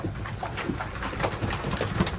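Large Strasser pigeons coo in a loft, soft repeated low throaty calls overlapping at close range, with a steady background of rustling and faint bird chatter throughout.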